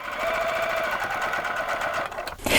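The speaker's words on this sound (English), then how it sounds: "Remember, we're not sewing super next to the cording." A sewing machine stitches a seam on a corded decorator pillow, a fast, even mechanical chatter running continuously up close before stopping near the end.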